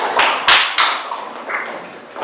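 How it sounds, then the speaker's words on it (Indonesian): Brief, sparse applause from a classroom of students, a few close claps and slaps that quickly thin and fade away. "tepuk tangan dulu dong untuk kelompok Eca."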